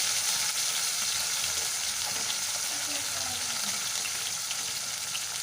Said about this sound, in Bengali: এইভাবে আমি সব মাছগুলো একে একে ভেজে নেব।